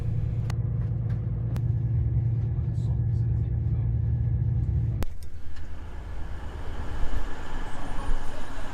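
Train arriving at Bristol Temple Meads station, a low steady rumble of the carriage that shifts abruptly to a broader, noisier station ambience with clanks and brakes, continuous and moderately loud beneath faint voices.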